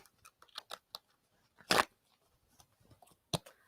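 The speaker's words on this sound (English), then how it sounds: "I'm actually going to shuffle these cards one more time." Tarot cards are shuffled by hand, giving quiet irregular papery clicks and snaps with a louder riffling burst in the middle and another sharp snap near the end, close and otherwise silent.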